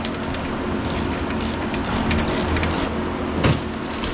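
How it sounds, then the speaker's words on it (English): A ratchet clicks in quick, repeated bursts while tightening the front diff brace bolts on a Dodge Durango or Jeep Grand Cherokee, the ratcheting strokes close and distinct with a louder clank near the end. "we're going to go ahead and tighten these 2 bolts"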